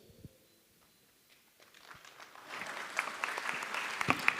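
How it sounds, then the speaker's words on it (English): At a provincial legislature hearing on a climate change bill, applause after a presentation starts from a faint, near-silent room, then swells into steady clapping from many hands that grows louder and denser over the last two seconds. "A bigger round hand of applause"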